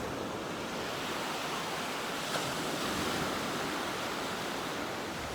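Ocean waves on a beach, a constant broad wash of surf and wind with a slight swell midway, close and loud with no voices.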